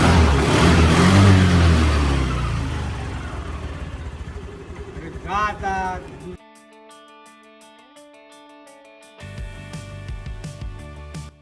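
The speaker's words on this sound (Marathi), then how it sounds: "अजय वेंगुर्लेकरांची आपण वॅगनार घेऊन चाललोय तेलसे बांबाड्याला" A Maruti Suzuki WagonR hatchback's engine hums and rumbles with road noise as it drives, then gives way to electronic music playing inside the cabin.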